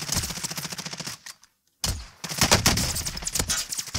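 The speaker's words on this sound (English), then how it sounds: "Ed, shoot them for God's sake!" Rapid bursts of video game gunfire crackle loudly in a dense, rattling stream, break off into near silence for about half a second, then resume just as hard.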